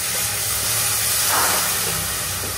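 Water splashes into a hot pan of spices frying in oil in a Bengali home kitchen, setting off a loud, steady sizzling hiss that swells briefly partway through.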